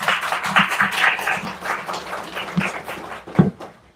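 An audience at a policy forum on alternative education in Goyang claps to welcome an 11th-grade student speaker. The applause is a dense, steady patter that fades near the end.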